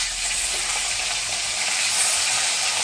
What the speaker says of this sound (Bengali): একটু লাল লাল করে ভেজে নেবেন। এই 3টে মাছের মাথাও আমি উল্টে দিচ্ছি।